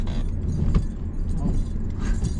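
Bracelets jingle with faint metallic chimes inside a moving car during a driving lesson, light and sporadic over the steady low road rumble of the cabin.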